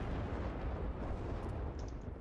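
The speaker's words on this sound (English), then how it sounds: "we've got a nade bomb coming straight on Delta" A grenade blast in Rising Storm 2: Vietnam, a dense, rumbling roar of explosion noise that fills the whole moment, loud and sustained without a clear sharp onset.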